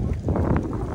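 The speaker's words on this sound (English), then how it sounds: "Too windy." Wind buffets the microphone in a low, rumbling gust, steady and close for a brief moment.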